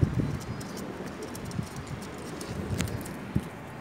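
A pair of Pakistani pigeons, a male and a female, with their young: faint low cooing pulses over a quiet, steady background hiss, close and intermittent, with no voices.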